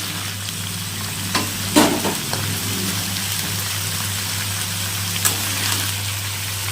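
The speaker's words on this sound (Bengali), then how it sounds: "এখন একটু হালকা হালকা ভেজে নেব" Tomato and onion with green chilli frying lightly in a pan, a steady soft sizzle with a few sharper clatters of stirring, close and alone.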